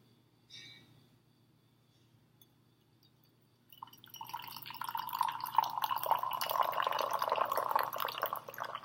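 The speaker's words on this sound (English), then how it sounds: "Really be sure to get all the little bits of liquid out of your Yixing teapot." Tea pours steadily from a Yixing teapot into a cup, a bright trickling splash that starts after a few quiet seconds and continues to the end.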